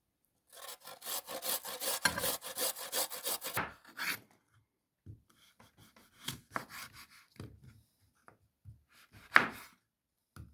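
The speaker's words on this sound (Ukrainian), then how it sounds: "І на таку терку, не на саму дрібнішу, а таку середню." Garlic rubbed over a medium kitchen grater while making a spicy cucumber breakfast salad, a close rapid rasping run for about three seconds, then scattered quieter scrapes and knocks.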